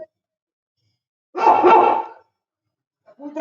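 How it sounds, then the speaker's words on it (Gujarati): A single dog bark, short and fairly loud against near silence, with the start of another sound at the very end. "કૂતરા બોલ"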